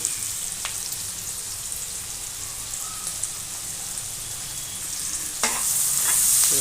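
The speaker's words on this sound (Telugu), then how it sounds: "ఇలా బటర్ కరిగిపోయిన తర్వాత ఉల్లిగడ్డలు అయితే యాడ్ చేసుకోవాలి దీనికి" Onions frying in melted butter in a pan for paneer butter masala, stirred steadily with a utensil; a continuous sizzle with scraping stir strokes, growing louder near the end, and no voices.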